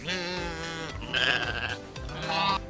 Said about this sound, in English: Bleat.